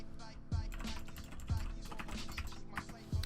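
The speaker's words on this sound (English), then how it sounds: "sorry for the typing" Rapid clicking on a computer keyboard, steady close typing with periodic heavier thumps, no speech over it.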